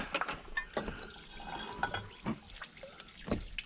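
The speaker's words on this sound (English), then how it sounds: "And there comes the antifreeze that I knew was going to come" Antifreeze drains from the water pump of a Case MX180 tractor, a faint trickle and patter of liquid with irregular drips and splashes, heard close and quiet.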